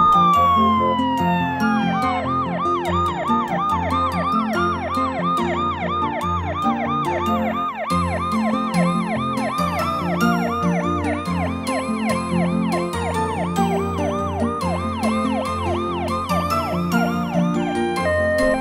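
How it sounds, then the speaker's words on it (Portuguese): A loud, close ambulance siren, likely a toy's, warbles in a fast, steady yelp pattern throughout with no talking. "Ambulância."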